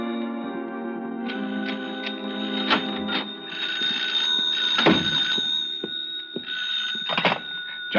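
A telephone bell rings in a radio drama scene, several sharp repeated rings over a steady background tone, with soft thunks between bursts and no speech.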